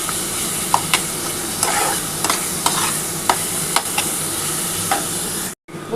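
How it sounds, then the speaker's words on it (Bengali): Cashew masala sizzles in a wok under a spoon, a constant fry hiss punctuated by regular scraping strokes roughly every half second, then a brief cut to silence near the end. "কাজু বাদাম দিয়ে যে কোনো কিছু করতে গেলে না কড়ার মধ্যে লেগে যায়, তার জন্য একটু নাড়াচাড়া করতে হবে।"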